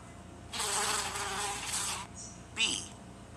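A bee's buzz, a loud steady hum for about a second and a half, then a brief softer buzz and a short, sharp rising buzz near the end, with no talk.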